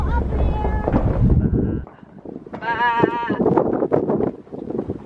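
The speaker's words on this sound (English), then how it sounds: "Look at the goats. So many goats." A herd of goats bleating outdoors during an off-road drive in Saudi Arabia, a loud wavering bleat rising over wind noise and vehicle rumble, with people talking nearby.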